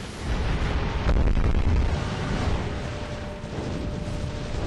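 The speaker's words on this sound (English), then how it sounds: "Oh god, I'm being bombarded." Explosions from a bombardment in the video game Drakengard rumble as a dense, sustained low roar with a heavier boom just after the first second, continuing loudly throughout.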